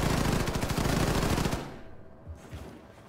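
Rapid automatic gunfire from a weapon in the video game Wolfenstein II rattles in a dense, loud burst for about a second and a half, then stops, leaving quieter game ambience with a couple of soft thumps.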